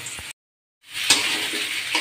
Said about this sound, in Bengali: আলুগুলো আমি একটু লাল লাল করেই ভেজে নেব।